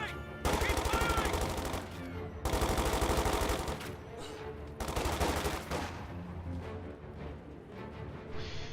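Rapid gunfire in a multiplayer war video game comes in three dense, loud volleys, each lasting a second or more, over a constant busy battle din.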